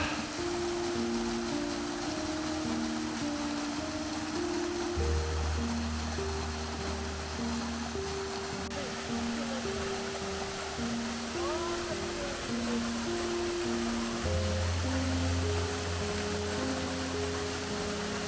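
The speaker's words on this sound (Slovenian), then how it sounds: "Evo, to je pa slap Veli vir." Water from the Veli vir waterfall in Istria rushes in a steady, even roar. Sustained tones, like music, play over it.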